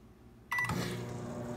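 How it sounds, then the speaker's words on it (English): A microwave beeps and then starts up, its steady low hum filling the quiet room. "So I microwave it."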